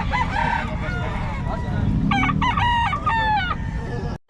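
A Boston Hen gamefowl rooster crows several times in harmonic bursts over steady low background noise, with other fowl clucking nearby at a market stall.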